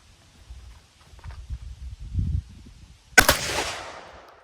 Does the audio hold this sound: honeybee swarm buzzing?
no